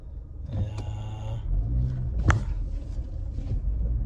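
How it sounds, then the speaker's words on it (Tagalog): A truck rumbles past on a snowy spring road in Alberta, a steady low engine drone with a few clunks and rattles, no voices. "yung dumaan na truck sa ating kanina na dire-diretso dito"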